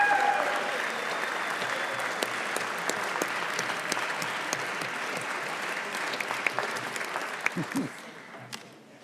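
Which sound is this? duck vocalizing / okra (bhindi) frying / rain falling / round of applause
round of applause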